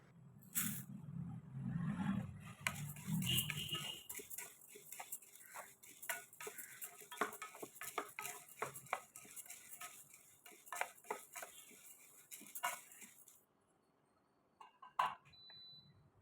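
Chana dal and toor dal being dry-roasted in a pan for homemade chilli powder, producing a dense run of fine ticking and rattling as the lentils are tossed, with a low rumble at the start and a quieter stretch near the end.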